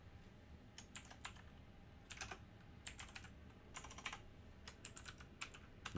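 Someone types on a computer keyboard at a desk in front of a microphone, quick irregular clusters of soft key clacks, faint and close.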